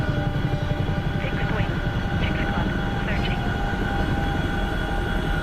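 Chinook helicopter in a video game, a loud continuous rotor and engine drone with a steady beating texture, with a person talking over it.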